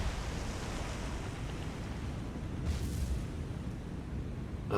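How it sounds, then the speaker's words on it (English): A destroyer's magazine explodes in the naval combat game War on the Sea, heard as a sustained, dense roar layered over steady ocean-like wash, swelling slightly midway, with no talking. "That was a nice explosion here on the destroyer."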